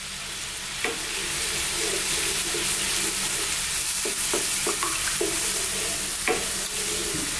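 Keema kofta curry with coconut milk and garam masala simmering on medium heat in a pan, a steady loud sizzle with intermittent scraping clicks of a spoon stirring, no talking.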